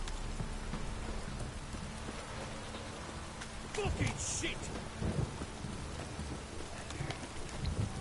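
Heavy rain pours down in a steady, dense downpour with low rumbles suggesting thunder, and a man curses loudly partway through.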